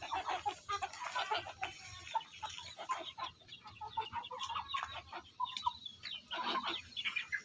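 Free-range village chickens cluck in scattered, overlapping bursts at a moderate distance over faint background hiss, with no talking.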